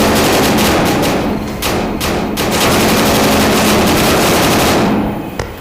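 Continuous loud gunfire from the Tactical Assault VR video game, dense rapid bursts filling the scene with barely a pause, with no talking.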